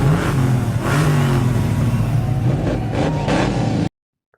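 Racing car engines rev and accelerate at the start of a street race, a loud close mid-pitched drone rising and falling in pitch for several seconds before cutting off abruptly.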